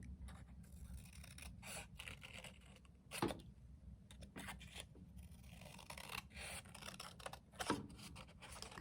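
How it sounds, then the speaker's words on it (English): Quiet scissors snip and rasp against paper while cutting out skeleton hand fingers, with a couple of sharper cuts standing out over faint rustling. "take your scissors and cut a little bit further down"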